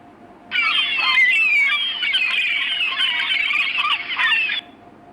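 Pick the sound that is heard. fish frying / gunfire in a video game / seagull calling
seagull calling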